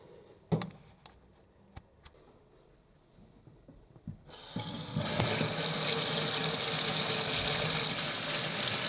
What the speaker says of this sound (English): Rinsing out the nuts so that they can be put in the blender.